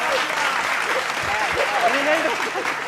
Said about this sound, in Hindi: मृत्युंजय जी ताली बजा दिए